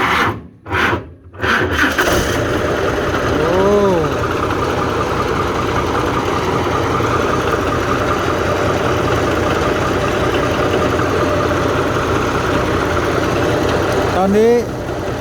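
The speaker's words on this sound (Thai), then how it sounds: "ติดเครื่องนะครับ" A hay baler's engine runs at a steady idle with a rough, continuous drone after a brief start, a couple of faint whines rising over it.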